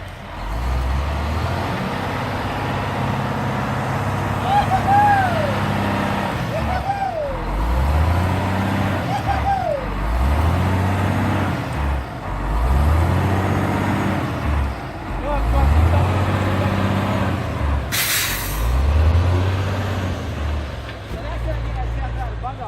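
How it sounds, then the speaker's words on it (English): A truck on a sloppy, muddy farm track revving with its wheels spinning but not moving, in repeated rising and falling engine surges, loud and close, while someone talks. "Truck's doing a lot of spinning but no moving."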